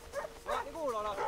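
A dog in the video game Assassin's Creed 3 gives a few short yips and whimpering barks close by, with speech-like tonal sounds mixed in.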